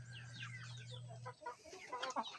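Crossbred backyard chickens clucking softly nearby in short, scattered calls over a faint low hum, no voices present.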